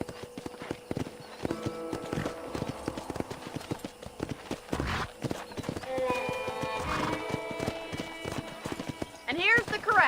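Horse hooves clip-clop at a ranch corral in the video game Red Dead Redemption, with close, steady hoofbeats, a horse's neigh or whinny, and game characters talking throughout.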